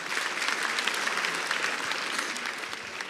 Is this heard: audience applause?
yes